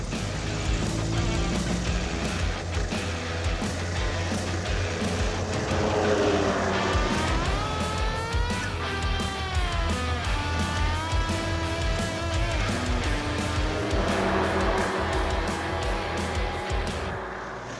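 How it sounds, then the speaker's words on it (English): An AMC Pacer on a road trip into Montana, engine droning loudly from inside the cabin, with a wavering, grinding mechanical whine rising and falling as if the clutch were coming apart. "What is that noise? It sounds like the clutch coming apart."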